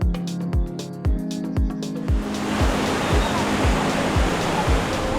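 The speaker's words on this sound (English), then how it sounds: "Today the waves are a bit wild." Ocean waves break and wash onto a beach in Bali with a broad continuous roar, while a beeping electronic tone chirps repeatedly over the start and then fades beneath the surf.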